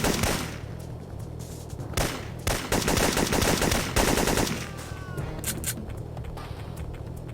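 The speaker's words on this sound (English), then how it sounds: "Gunfights can get a bit grating on the ears after a while, with 7 different enemies shooting at you at the same time." Enemy gunfire in the action game Syphon Filter 2, sustained automatic weapon fire in dense crackling bursts from several shooters at once, loud and nearly continuous, with little speech.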